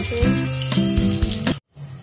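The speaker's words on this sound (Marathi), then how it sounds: "त्याच्यामध्ये हा कांदा टाकते फोडणीला, याला आता आपल्याला थोडंसं फ्राय होऊ द्यायचे।" Chopped onion fries in hot tempering oil for a cowpea curry, a loud close hiss and sizzle with clinking utensil hits, cutting off abruptly before a quieter sizzle resumes, no talk.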